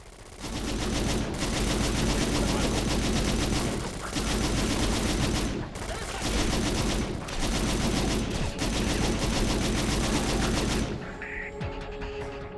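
Turret machine gun in Syphon Filter Dark Mirror firing long, sustained automatic bursts, loud and dense, with brief breaks between strings of fire before the shooting stops near the end.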